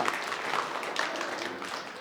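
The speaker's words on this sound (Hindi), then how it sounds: "क्या बात है, जोरदार तालियां." Audience at a Buddhist vihara gathering claps in a short, moderately faint round of applause with no talk over it.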